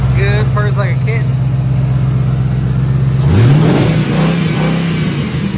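A 4.6 liter V8 engine with diesel fuel in place of oil in the crankcase runs at a steady idle, then revs up briefly and settles, with voices talking over the start.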